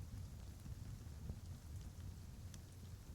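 Heavy rain pours down in a dense, continuous hiss with a low rumble beneath, steady and enveloping without a break.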